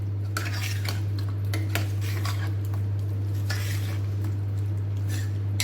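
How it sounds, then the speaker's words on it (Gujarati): Spicy potato curry stirred in a pan with a spoon, clinking and scraping steadily against the metal over a constant low hum, close and moderately loud, no talking. "બરાબર મિક્સ કરી લઈશું બધું."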